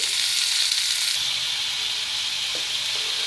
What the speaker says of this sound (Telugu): టమాటాలు కూడా బాగా వేపుకుందామండి